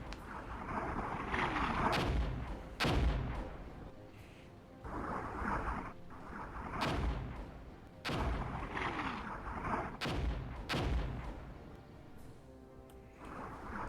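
Mortar fire and impacts in the Armored Brigade war game, a series of heavy booming blasts every couple of seconds over a steady rumbling battlefield background.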